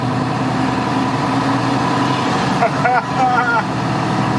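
Fiat 619 N1 truck engine idling and revving as gears are shifted, a steady low rumble with a brief rise in pitch near the end, close and fairly loud, with some speech over it.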